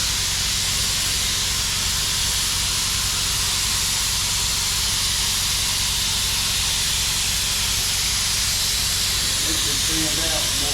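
A cheap Harbor Freight spray gun sprays primer with a steady, loud, broadband hiss that runs unbroken and stays close for the whole stretch.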